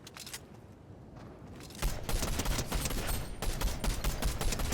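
Gunfire in the video game Fortnite: a dense burst of rapid shots, quieter at first and then a loud continuous volley for the last few seconds.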